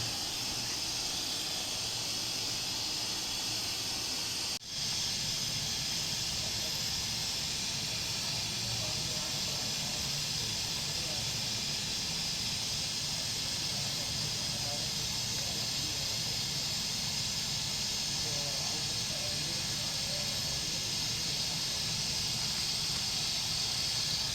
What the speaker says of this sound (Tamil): அப்படியே ஆவியில் வைக்கணும்.